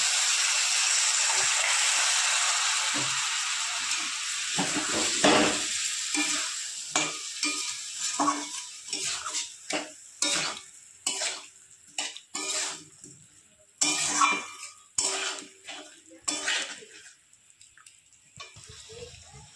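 Spice masala with a little water fries in a pan and is stirred while fish roe is being cooked. A steady sizzle gives way to repeated scraping, hissing stirs in irregular bursts, close and fairly quiet.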